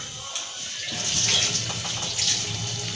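Water being poured into tamarind chutney in a home kitchen, a steady running, splashing pour that carries on for a few seconds.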